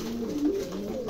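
Pigeons coo softly in a backyard loft, giving a brief low warbling call over a quiet background hum.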